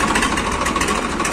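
A New Holland 3230 three-cylinder, 35-horsepower tractor engine runs at a steady idle, loud and close with a constant chugging rumble and no talk over it.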